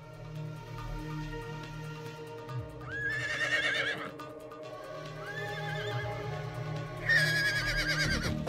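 A horse neighs in three separate high, whinnying calls during mounted archery, with hoof clip-clop and a low rumble of movement underneath. The calls are close and loud, with no talking.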